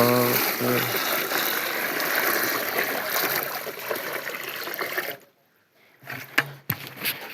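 Water streams and trickles steadily into a new guppy fish tank for several seconds, then cuts off into near silence before a few faint splashes and knocks.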